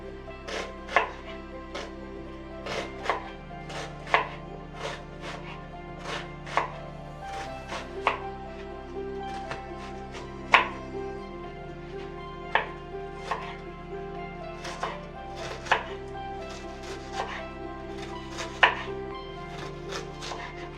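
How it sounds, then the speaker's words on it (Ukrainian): An onion being finely chopped with a knife for chebureki, producing steady, close, crisp knife taps on a board that continue throughout, with occasional louder strikes and a low background drone. "Нарізаємо дрібненьку цибулю. Чим подрібніше."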